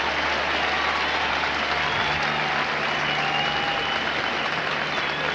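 A capacity stadium crowd of over 59,000 at a Green Bay football game gives Brian Noble an ovation as he leaves the field, a dense, steady roar of applause and cheering that fills the whole stretch, with a faint engine hum underneath.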